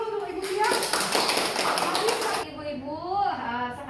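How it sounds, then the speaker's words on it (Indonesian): A group applauds Ibu Tia at a Posbindu health cadre training session, with steady clapping lasting a couple of seconds alongside voices, then giving way to speech. "Kita tepuk tangan dulu untuk Ibu Tia."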